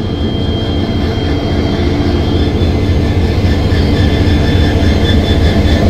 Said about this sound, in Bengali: এই যে কাঞ্চনজঙ্ঘা এক্সপ্রেস 13174 WDG 4D